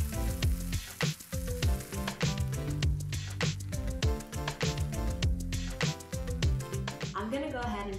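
Sweet potato pancake batter sizzles and crackles steadily in a hot ceramic-coated non-stick pan, a continuous frying hiss with soft clatters of utensils throughout.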